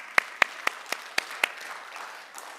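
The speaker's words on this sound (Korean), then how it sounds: "하나님께 영광의 박수를 드리겠습니다." About six loud, crisp claps ring out at an even rhythm from a church congregation during a Sunday worship service, then fade into a softer scattered patter.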